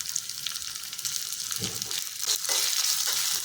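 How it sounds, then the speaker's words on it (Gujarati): Chopped onion with ginger-chili paste and curry leaves sautéing in hot oil for a masoor dal snack, a steady close sizzle with louder bursts and scraping as the pan is stirred. "બધું હલકું સાતળી લઈશું।"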